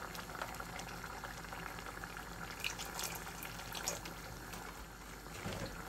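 A small amount of milk poured into a simmering dried fish curry, with a faint continuous bubbling and liquid trickle, quiet and close with no talk.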